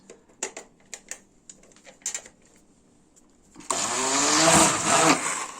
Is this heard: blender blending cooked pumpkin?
yes